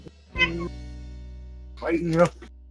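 A pet cat meows twice, one short call then a longer drawn-out one after a pause, fairly close and clear over a steady low hum, with no talking.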